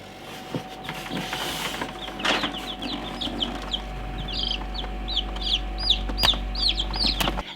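Baby chicks in an incubator cheep in quick, high, repeated peeps over a steady low mechanical hum, close by and busy throughout.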